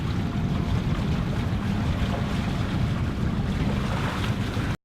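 A sailboat motors through thick fog on a windless day off La Graciosa and Lanzarote, its steady engine drone and water rush filling the scene with no voices.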